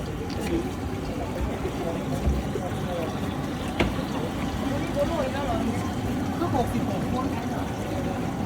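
A steady low drone from a four-engine boat runs throughout with water splashing and wind noise near Phuket, Thailand; occasional voices mixed in.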